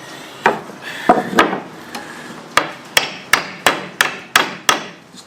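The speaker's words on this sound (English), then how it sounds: "I really don't know what the timber's like we're nailing into there." A hammer drives nails into hardwood timber for front decking, about a dozen sharp close woody blows, first spaced irregularly, then in a quicker steady series, each ringing briefly.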